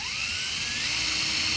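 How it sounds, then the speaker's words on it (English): A high-pitched power drill with a fine-grit sanding attachment whines steadily at high speed while restoring a Lexus logo, its pitch rising slightly, loud and close with no voices. "This is with a higher RPM on the drill."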